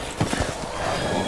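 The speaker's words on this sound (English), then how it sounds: "Zombies are riding horses?" Horse hooves clop in quick succession during a mounted-zombie encounter in the horror game Resident Evil Village, several close, heavy impacts followed by a steady rumbling background.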